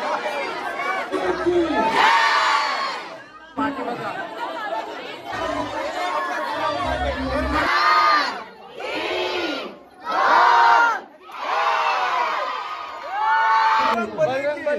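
Dense festival crowd gathered to see decorations, loud overlapping chatter and shouts from many people, with surges of cheering and brief lulls, and a nearby voice speaking over it.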